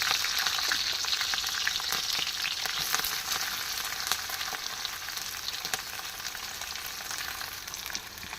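Onions and green chillies frying in oil for lemon rice, a steady close crackling sizzle that runs the whole time with faint stirring scrapes, no voices.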